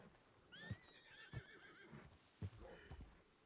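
Horse whinnies several times in a Red Dead western roleplay game, set against faint hoof clip-clops and soft thuds, with no talk.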